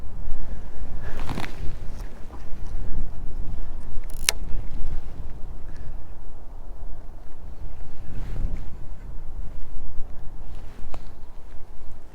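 Fast, turbulent trout stream water rushing steadily close by, a loud continuous broadband roar with gusts of wind buffeting the microphone.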